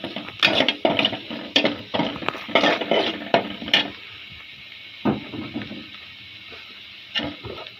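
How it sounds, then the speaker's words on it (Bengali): A spoon scrapes and clatters around a cooking pan while chili and turmeric powder are stirred in, with a burst of quick irregular knocks followed by sparser, softer scrapes. "এখন আমরা এটাকে নাড়িয়ে চাড়িয়ে নিচ্ছে।"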